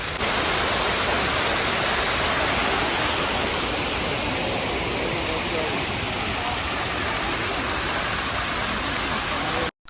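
Loud, steady rush of water at Brindavan Gardens in Mysore, a dense broadband roar that fills the scene without letup for nearly ten seconds before cutting off abruptly.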